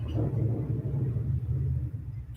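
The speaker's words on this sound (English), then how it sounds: "hear the storm rolling" Thunder from a storm rolling in, heard as a faint, low, continuous distant rumble lasting a couple of seconds with no talking over it.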